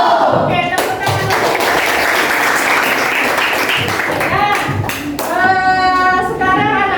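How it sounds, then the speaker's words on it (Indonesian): A class of children claps their hands together during a classroom lesson, a dense burst of overlapping claps that swells in the middle, with voices and chanting just before and after. "Oke, tepuk tangan."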